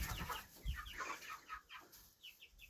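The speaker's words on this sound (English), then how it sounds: "There's all the new chickens and one old chicken" A new flock of chickens and one older hen cluck in their new coop on a homestead on a warm November day, with scattered short, bright clucks repeating close by over quiet background.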